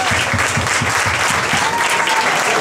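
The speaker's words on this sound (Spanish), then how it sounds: "Vamos a darle un fuerte aplauso a Débora, que gracias a ella estamos acá." Audience applause fills a fifteenth birthday party, a dense, steady clapping from a crowd that continues without break throughout.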